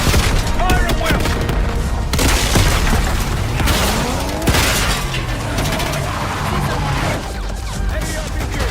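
Gunfire in the video game Call of Duty: Black Ops 6 arrives as dense, loud volleys of shots mixed with heavy booms and crashes. The intensity shifts from moment to moment, with voices mixed in underneath.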